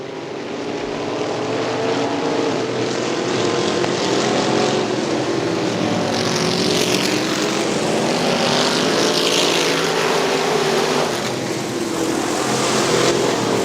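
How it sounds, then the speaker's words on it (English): IMCA modified race cars racing at Crystal Motor Speedway in 2002, a loud, continuous roar of several engines droning together, heard from a distance with no talking over it. "Walker and Olger doing some mighty fine racing there in the top and the low groove"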